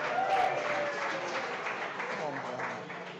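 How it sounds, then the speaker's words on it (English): An audience at a chef showdown event claps in steady, sustained applause throughout, with crowd voices mixed in. "Give them a big round of applause."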